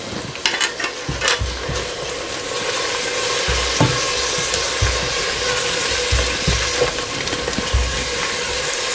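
Tomatoes and spices fry in a pan for samosa chaat masala, a steady close sizzle with occasional stirring scrapes and clinks throughout, no talking.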